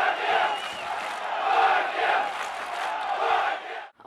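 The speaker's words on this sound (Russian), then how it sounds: "возвращение болельщиков на трибуны, которые снова заявили о себе как о самой горячей публике" Football fans of the club Fakel roar and chant in the stands, a dense, loud crowd swell that rises and falls for a few seconds before cutting off abruptly.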